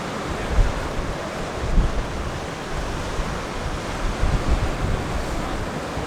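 Ocean surf and breeze heard from a fifth-floor hotel balcony overlooking a pool and courtyard, a continuous broad wash of waves with gusty wind buffeting the microphone, no voices.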